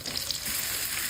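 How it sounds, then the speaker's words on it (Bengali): Chopped onions fry in oil for a prawn bhuna, giving a close, steady hiss and crackle with a few soft pops and no talking. "মাছ ভুনা করার জন্য তেল দিলাম, পেঁয়াজ কুচি"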